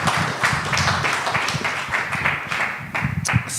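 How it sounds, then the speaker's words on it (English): An audience breaks into a round of applause, dense overlapping claps close by that stay fairly steady for several seconds, with no voices over them. "Can we give them a round of applause?"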